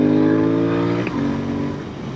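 Royal Enfield Continental GT 650 motorcycle ridden on a rural Iowa road, its engine droning steadily at high revs, briefly dipping as if easing off, then carrying on alone.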